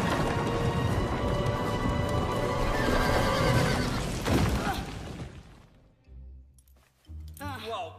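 Horse in an animated film whinnies loudly over clattering hooves and commotion, then the noise drops away to quieter sounds and brief voices.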